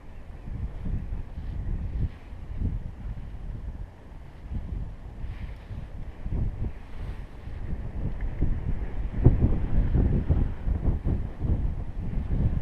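Wind buffets the microphone at the seaside on the Swale in Kent during a fishing session. A continuous low rumbling gust noise rises and falls throughout, loud and close, with no speech.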